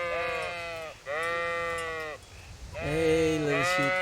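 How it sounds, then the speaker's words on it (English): Sheep in Kingdom Come Deliverance bleat three times in succession, each long, wavering cry loud and close, with a brief pause between calls and a slight overlap near the end. "Hey, little sheep."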